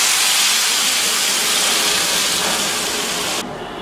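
Cooked dal poured into frying onions and garlic, a loud dense sizzle and hiss that holds steadily, then drops suddenly in intensity near the end, with no speech.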